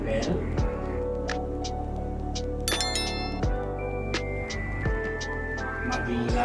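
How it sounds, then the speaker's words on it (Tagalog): A notification bell sound effect rings out in bright, metallic dings, with a cluster of overlapping chimes near the middle and single tones later, set over a sustained tonal background. "Pindutin po natin ang ating notification bell."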